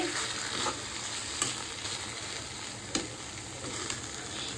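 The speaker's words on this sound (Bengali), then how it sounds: "মোচা আর আলু আস্তে আস্তে ভালোভাবে আবার কষে নেব।" Banana flower and potatoes stir-fried in a pan, a soft continuous sizzle with sharp clicks of the spatula scraping and stirring every second or so, no talking.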